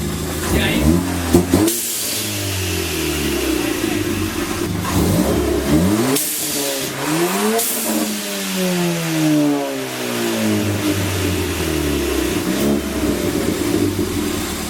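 A Ford Fiesta fitted with a downpipe and aftermarket exhaust revs repeatedly on a two-step launch limiter, loud rising and falling engine sweeps with pops, while people talk nearby.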